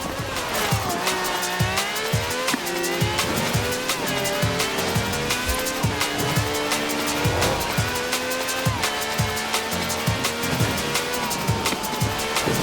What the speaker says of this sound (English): This has a V12 with over 750 horsepower, plus bucket seats.